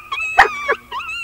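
A dog whimpers and howls in short, high, wavering cries, a few separate bursts close to the microphone with a sharp yip among them.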